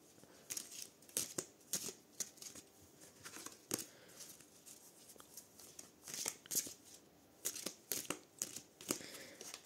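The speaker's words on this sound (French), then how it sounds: "Donc je vais refaire 2 petits tas pour voilà, mélanger un petit peu davantage encore." Kaamelott tarot cards are shuffled by hand in bursts of crisp riffling and slapping, repeated several times with short pauses, close up and without talk.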